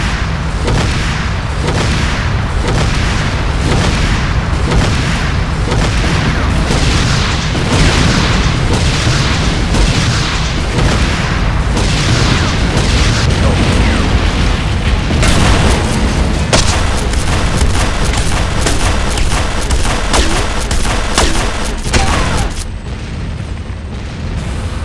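Explosions pound a Nod base under attack in the Command & Conquer Renegade game, a dense, continuous barrage of loud booms and blasts rolling on for over twenty seconds with no clear pause.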